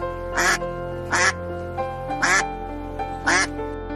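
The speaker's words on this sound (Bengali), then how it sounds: "রাজহাঁস" A goose honks four times at even intervals, each call loud and close, standing alone over a faint low background hum.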